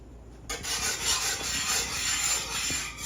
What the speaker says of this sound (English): And I'm going to give that a whisk.